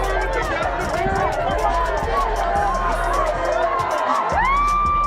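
A loud crowd at a boxing event roars and cheers continuously, a thick wash of shouts and whoops filling the arena, with talk underneath.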